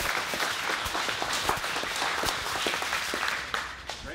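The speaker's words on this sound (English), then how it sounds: "Let's give him a round of applause." An audience at a virtual reality meetup applauds a presenter, a steady burst of many hands clapping with a few louder individual claps standing out near the end.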